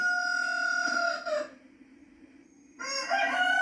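A rooster crows twice nearby, a long strained call followed by a short pause and then another loud crow starting up.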